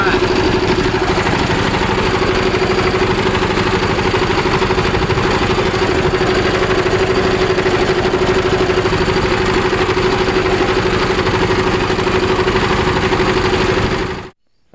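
A tractor engine idles at a solar plant, a loud, steady, close drone with an even hum that runs unchanged for about fourteen seconds before stopping abruptly.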